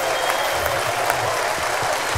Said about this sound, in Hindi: चलिए तो जोरदार तालियों से स्वागत करिए